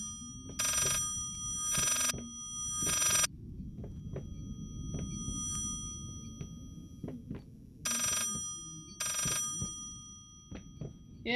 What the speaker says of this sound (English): Please stop ringing.